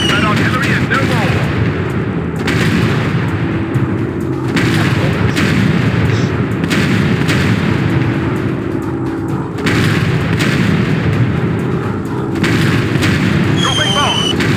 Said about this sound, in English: Dropping bombs. Yes, target down.